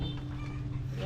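Chickens cluck nearby on Siquijor in a steady, dense outdoor din with murmuring voices and other farmyard noise throughout.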